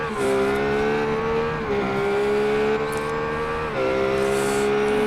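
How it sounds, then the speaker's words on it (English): A steady, droning race car engine in the iRacing video game, a GT car at Circuit Gilles-Villeneuve, hums at near-constant pitch, dipping briefly a couple of times as the power falters through the chicanes. "we can just hear the car die as he tries to hit the accelerator coming through those chicanes"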